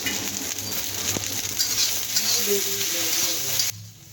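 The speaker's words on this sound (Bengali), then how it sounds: "এই যে ভেন্ডি যে ভাজা করছি" Sliced okra sizzles and fries in a pan on a home stove, a steady close crackling hiss with light stirring clinks before cutting off abruptly.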